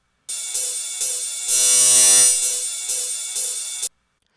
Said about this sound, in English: or it'll cause weird phasing issues which sound like this.